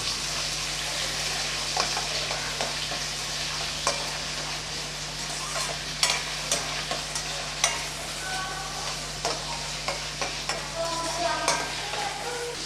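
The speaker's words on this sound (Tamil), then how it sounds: "2 பெரிய வெங்காயம் பொடியாக கட் பண்ணி வச்சுருக்கேன். இப்போ அதை சேர்த்துக்கலாம். நல்லா வதக்கி விட்டுறலாம்." Two large finely chopped onions sauté in a pan for chicken curry, a steady quiet sizzle broken by repeated sharp spatula clicks and scrapes, close by and free of speech.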